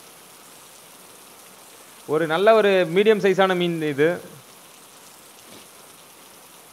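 Heavy rain pours during hand-line tilapia fishing, a steady low hiss running throughout while someone talks in the middle.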